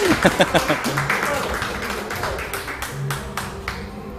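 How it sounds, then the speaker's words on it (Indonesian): Clapping at an Indonesian Independence Day gathering, starting with a few distinct, close hand claps that swell into looser applause from a small group, with voices talking underneath. "Ya, tepuk tangan."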